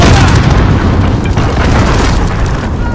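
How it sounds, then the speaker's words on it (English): A cruise missile explosion in Call of Duty: Modern Warfare, a loud, close, roaring blast that rumbles continuously for several seconds with no speech. "Allied cruise missile away!"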